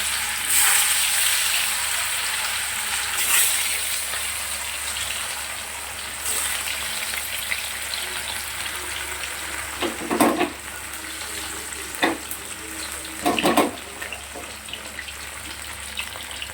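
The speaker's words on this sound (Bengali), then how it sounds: "মাছগুলোকে ভেজে নেব।" Katla fish frying in hot oil in a pan, a loud, continuous close sizzle throughout, with a few bursts of spattering and scraping as the pieces are turned.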